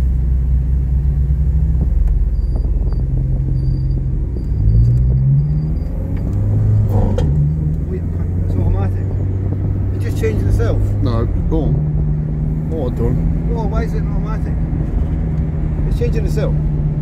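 An Austin Princess mk1 with an automatic gearbox drives along, its low engine rumble rising and shifting pitch as it changes gear, with people talking over it.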